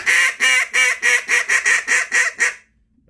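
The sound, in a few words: Duck Lander duck call blown as a Cajun squeal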